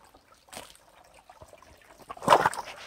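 A small, clean stream trickles beside a woodland bushcraft camp, with faint intermittent gurgles and a brief louder splash near the end, otherwise quiet.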